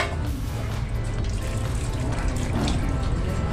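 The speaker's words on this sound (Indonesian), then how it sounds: "Keluarkan saja semua bensin yang ada di dalam tangki." Petrol runs from the automatic fuel tap of a Suzuki Spin motorcycle tank in a steady, close liquid pour that continues without a break.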